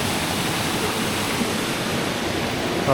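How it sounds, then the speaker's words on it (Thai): Ang Chang Nam waterfall in Thailand running low on water, a steady close rushing splash of falling water that goes on without a break. "สำหรับน้ำตกอ่างช้างน้ำนะครับ"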